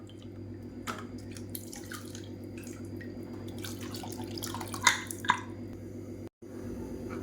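Water is poured from a tap into a pressure cooker lid to rinse it, a soft trickling and splashing with a few drips, under a steady low kitchen hum.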